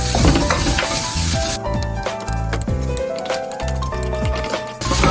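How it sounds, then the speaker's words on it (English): Rice fries in oil in a pan for egg fried rice while being stirred constantly, with a loud close sizzle and repeated scraping strokes of the utensil. "Now we add the rice. Throughout all this, do not stop stirring, or it will stick."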